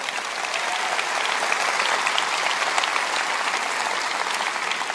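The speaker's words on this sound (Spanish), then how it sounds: "Dales un buen aplauso." A church congregation applauds continuously, a dense, even clatter of many hands that stays loud and steady throughout with no voices on top.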